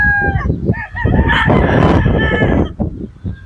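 Sweater gamefowl rooster from a Joe Sanford bloodline crowing loudly and close by, one long strained call with clucks just before and after.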